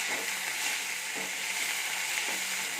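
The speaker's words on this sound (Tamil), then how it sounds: "சேர்த்து இதை நல்லா வதக்கிக்கலாம்." Curry leaves sautéing in a pan for a chutney, with a steady, dense sizzle and faint stirring scrapes throughout and no voices.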